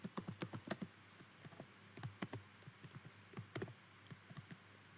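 Rapid keystrokes on a computer keyboard while writing Java code in Eclipse, a close, quiet run of uneven clicks in short bursts with brief pauses, and no talking.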